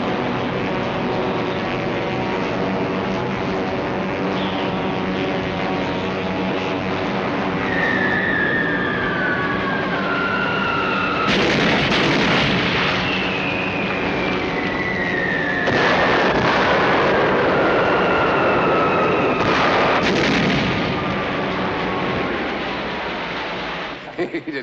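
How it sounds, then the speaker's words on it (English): Film sound effect of an aerial bombing attack on a ship: several loud, heavy booming blasts arrive over a sustained roar of aircraft engines and descending whistles, with dramatic film music and voices underneath. "General Mitchell has signaled, requesting permission to commence bombing."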